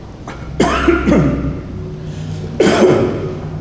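Two bursts of harsh, close coughing, a quick pair of coughs followed after a pause by another heavy cough.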